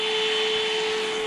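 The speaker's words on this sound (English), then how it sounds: "a cordless vacuum like this." A PerySmith Kaden Pro K2 cordless vacuum cleaner runs with a steady, loud motor whine and airy hiss, close and continuous through the brief stretch, with no talking.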